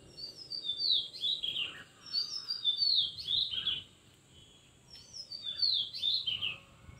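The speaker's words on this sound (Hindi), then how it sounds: "मैगपाई रॉबिन बर्ड, जिसको आम भाषा में दयाल पक्षी कहते हैं" An oriental magpie robin sings clear, whistled phrases in three repeated bursts with short pauses between, fairly close over a quiet outdoor background.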